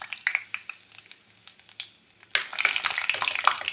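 Mustard seeds popping and curry leaves frying in hot oil for an Easter fish curry, a light crackle that bursts into loud, dense sizzling partway through.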